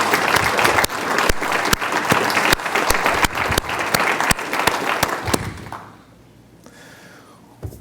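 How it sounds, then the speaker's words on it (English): An audience at the 2019 Livingston County State of the County Address applauds, with dense clapping punctuated by sharp, close individual claps, then dies away into a quiet hall with a faint stir. "So let's get a round of applause if we can for the Livingston County workforce"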